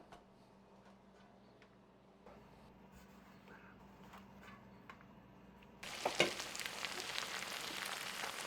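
Quiet background hum, then a sudden loud sizzle of breaded spaghetti frying in a pan that continues steadily, with occasional crackles and stirring scrapes.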